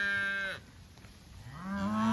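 A cow moos loudly and close by in a grass pasture, a long low bellow, then after a brief quiet gap another moo begins.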